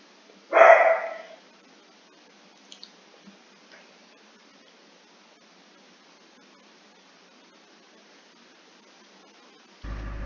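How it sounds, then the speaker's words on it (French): One dog in a house with three dogs lets out a single loud bark near the start. Near-silence follows, broken by faint ticks, until a sudden burst of noise at the very end. "il y a le chien de mère qui gueule"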